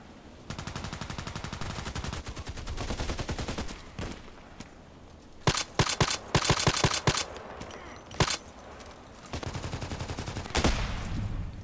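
Bursts of automatic gunfire in an online shooter game, with rapid rattling volleys repeating across the scene, some loud and close with sharp single cracks between, others more distant, and no talking over them.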